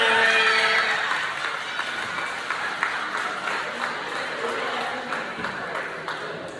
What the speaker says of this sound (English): Can y'all give a nice round of applause for Sean Wilson?